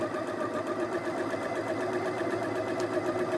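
Sewing machine stitching a French seam hem, a steady close mechanical whirr with fast even needle pulses running throughout.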